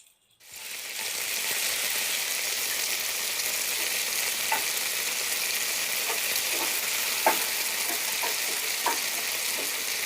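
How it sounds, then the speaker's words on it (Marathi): Finely chopped onion hitting hot oil in a pan, a loud, steady, hissing sizzle that starts abruptly and holds throughout, with a few faint clicks of a utensil against the pan and no speech. "आता ह्याचा चर आवाज घातल्या घातल्या खूप येत होतो, आता थोडं कमी झालो"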